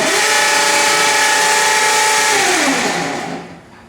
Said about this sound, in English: This dryer is relatively new, and this is what it sounds like